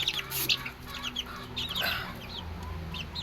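Baby chicks being fed, high thin peeping chirps repeating in quick clusters close by, fairly faint over a low background hum.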